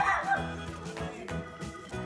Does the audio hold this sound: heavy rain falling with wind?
no